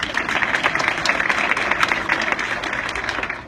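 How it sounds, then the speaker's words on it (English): An audience at an honoring ceremony claps for a reader, a brisk, full round of applause with distinct individual claps throughout, fading slightly at the end. "Round of applause, Ryan"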